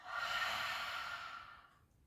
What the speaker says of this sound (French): Expire la bouche ouverte.